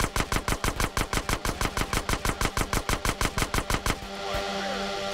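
Rapid automatic gunfire in GTA San Andreas during a user-made DYOM mission, a steady burst of about twenty evenly spaced loud shots lasting four seconds, followed by a lingering mechanical rattle.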